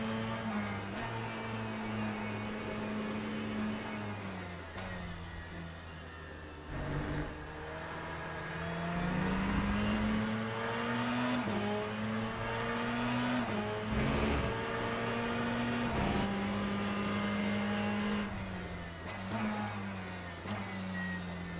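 Ferrari GT race car engine in the racing game Le Mans Ultimate, a steady loud drone rising and falling through gear changes over about twenty seconds, with brief lifts and re-accelerations.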